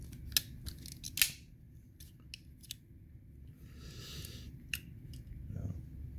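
Leatherman Wingman multitool's large scissors being handled, with a few sharp snipping clicks and light metallic handling noises, close and fairly quiet.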